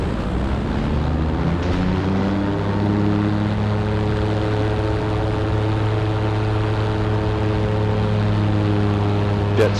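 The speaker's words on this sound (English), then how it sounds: "Jet ski over there to our right" Steady droning engine with strong harmonic tones, heard from a Super Petrel amphibious light aircraft flying over water where a jet ski runs off to the side, the hum constant and loud throughout.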